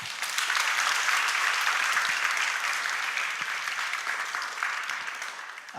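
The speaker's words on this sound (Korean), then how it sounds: "박수라도 한번." A church congregation applauds warmly at a Korean service after a prayer, a dense, sustained wash of clapping from many hands that holds steady and slowly tapers off near the end.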